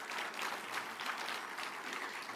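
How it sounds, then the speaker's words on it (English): Audience applause at a health conference session, a dense, steady wash of clapping heard from a distance at low volume throughout. "I think she deserves another hearty clap"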